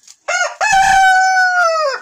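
A single Ameraucana rooster crows loudly and close by, a drawn-out cock-a-doodle-doo lasting about two seconds.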